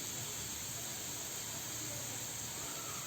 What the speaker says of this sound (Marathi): कांदा छान लाल होईपर्यंत परतायचा आहे.